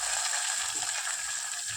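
Chopped onion pieces sizzle steadily in hot tempering oil for a Telugu ridge gourd dal, a continuous close hiss with no talk over it.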